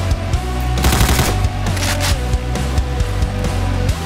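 Carbine fire in DOOM 2 with the Project Brutality mod: loud, rapid repeating shots in quick bursts with a steady rhythm, close and dominant, and no speech.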